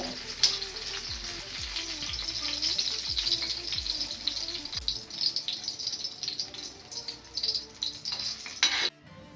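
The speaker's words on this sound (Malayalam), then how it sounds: "അതിനുശേഷം അതേ എണ്ണയിൽ തന്നെ പപ്പടം ചുട്ടെടുക്കാം" Pappadam frying in hot oil already used for sautéing onion, garlic and tamarind, crackling and sizzling loudly up close with a busy steady hiss and occasional stirring clinks, fading near the end.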